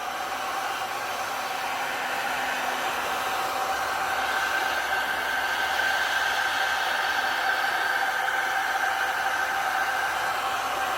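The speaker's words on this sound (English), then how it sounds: "come back in with the heat gun for a minute" A heat gun blows steadily on an alcohol-ink tumbler, a loud, continuous airy roar with a constant fan whine that holds unchanged throughout, with no other sounds.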